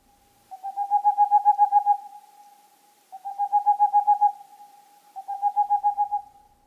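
Three bursts of rapid, mellow hooting notes from a boreal owl's song, each a quick run of about a dozen toots lasting over a second, separated by short pauses, clear and fairly close.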